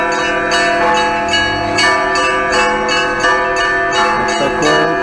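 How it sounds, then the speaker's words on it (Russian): Church bells at a Christmas concert, peal after peal with dense ringing overtones and steady loud strokes, sustained without any voices. "Сегодня, похоже, концерт, колокольный звон"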